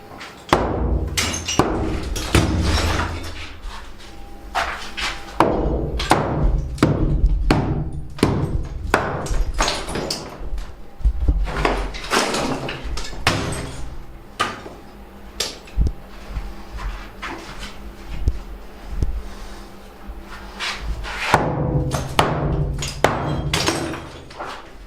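Rock falls out of a wet plaster wall during demolition, a long run of irregular thuds, knocks and crumbling impacts, close and fairly loud, coming in uneven clusters.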